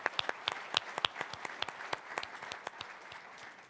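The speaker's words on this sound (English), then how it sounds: "let's give a round of applause to this group here" A conference audience at a healthcare research summit welcome session claps, with sharp individual claps standing out from a steady patter of many hands. The applause is moderately distant and fades gradually toward the end.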